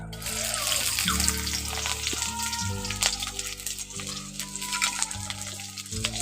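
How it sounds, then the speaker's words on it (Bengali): Chopped onion fries in hot oil in a wok, a continuous close sizzle and crackle with occasional stirring scrapes and a faint background hum. "পেঁয়াজটাকে একটু ভালো করে ভেজে নিচ্ছি"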